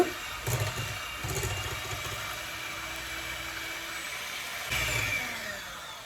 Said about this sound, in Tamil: உடைச்சி எடுத்து போட்டு பீட் பண்ணுங்க.